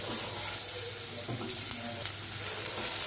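Onion frying in butter over a medium-high flame, a steady close hiss of sizzling with a few faint stirring scrapes and clicks, no voices.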